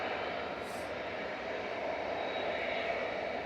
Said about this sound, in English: Ryanair you can hear in the background departing